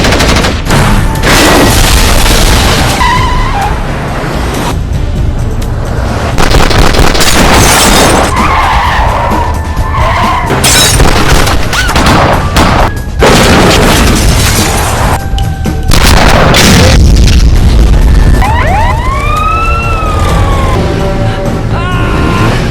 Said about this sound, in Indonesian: hingga akhirnya baku tembak pun tak terhindarkan